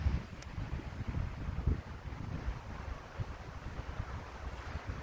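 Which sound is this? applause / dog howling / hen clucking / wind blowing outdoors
wind blowing outdoors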